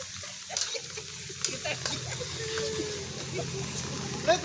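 Water runs hard from a tap in a steady splashing rush lasting the whole stretch, with light clatter mixed in.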